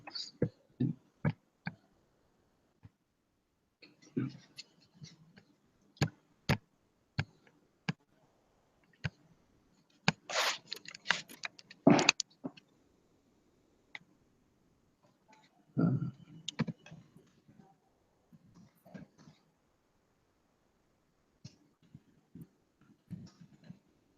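Sparse clicks on a computer keyboard come in short irregular bursts separated by long silences, faint and close, with a few louder clustered taps partway through.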